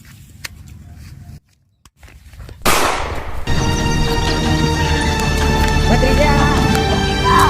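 A sharp, loud gunshot bursts out after a brief hush, followed by a sustained noisy roar; shouting voices are heard before it.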